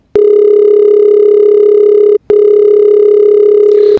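A loud, steady telephone calling tone in the PK XD video game: one long tone, a brief gap, then a second long tone, with nothing else heard.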